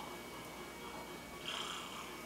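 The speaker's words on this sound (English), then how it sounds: "If you can't hear it, he's purring." A faint, soft cat purr, a low steady rumble heard close up in an otherwise quiet room.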